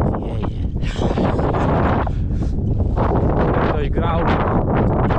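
Strong winter wind blowing outdoors in freezing cold, a loud continuous roar buffeting the microphone, with someone talking over it.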